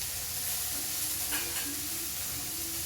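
Potatoes and garlic fry in a pan with a loud, steady sizzle and hiss close by, and a few soft stirring scrapes come through the middle.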